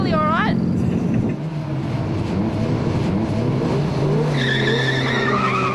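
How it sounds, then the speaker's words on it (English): A Toyota Corolla launches hard with tires squealing, its engine revs climbing through first and second gears in loud, close rising sweeps, while a voice talks over the noise. "Samantha's Corolla hooks up in first and second gears"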